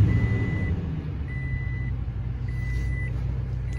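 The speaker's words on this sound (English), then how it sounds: "put your foot on the brake and hit the engine start button" A 2020 Toyota Tundra TRD Pro pickup's engine rumbles steadily at close range, accompanied by a repeating electronic chime beeping at regular intervals.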